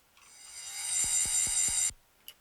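A looped, washed-out synth key sound from a music production rises into a bright, hazy shimmer over four evenly spaced low pulses, then cuts off abruptly, leaving one brief faint click. No one speaks.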